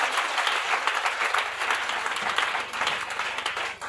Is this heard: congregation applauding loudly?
yes